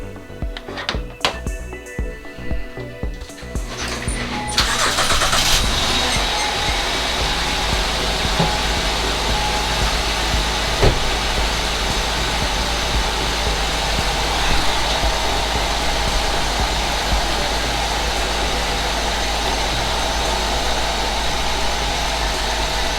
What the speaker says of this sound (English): now they want us to start the engine.